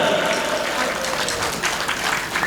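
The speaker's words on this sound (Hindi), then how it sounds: "तो अन्नू जी के लिए एक जोरदार तालियां हो जाए, जोरदार तालियां।" An audience at a public gathering bursts into sustained, dense applause, a steady wash of many hands clapping at once that fills the space without pause.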